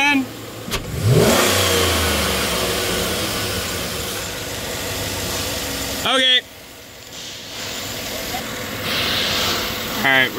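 A 2014 GMC Yukon XL with a 6.2L V8 and a mass airflow sensor fault idles, then the throttle is snapped open for a quick rev and the engine drops back, heard up close with a steady background hum.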